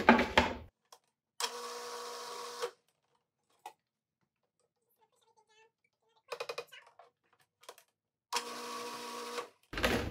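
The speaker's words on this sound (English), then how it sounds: "Now we're gonna blend it a little bit better." Blender whirring in short bursts as it purées tomatillo salsa with cilantro and lime juice, three loud pulses of a few seconds each separated by quiet pauses with small clinks.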